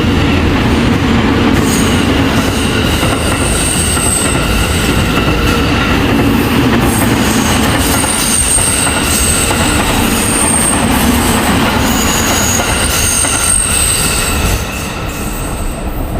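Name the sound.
train travelling along Sri Lankan coastal railway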